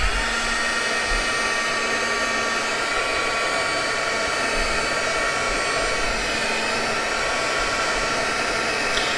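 A hair dryer blows steadily and loudly at close range for the whole stretch, drying a sprayed coffee filter page for a junk journal, with no talking.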